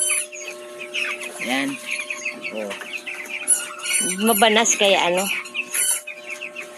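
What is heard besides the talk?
chickens clucking in coop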